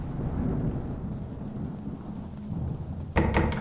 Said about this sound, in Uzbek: Ko'chada yomg'ir yog'yapti, mana qaldiroq chalib.